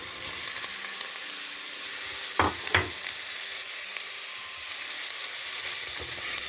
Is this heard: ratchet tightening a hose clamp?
no